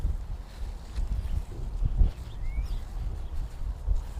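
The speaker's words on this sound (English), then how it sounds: "We got quite a wind here." Gusty outdoor wind buffets the microphone on an open rural property near a barn and dirt pile, a steady low rumble with swelling gusts throughout and no voices.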